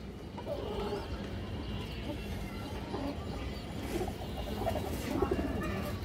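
Pigeons, including a female with a black tail and wings, coo softly in a series of low murmuring calls amid a steady background hum.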